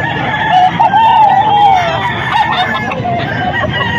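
A rooster crows loudly and close at a busy chicken market in Bocaue, its drawn-out call rising over clucking fowl and a faint murmur of background voices.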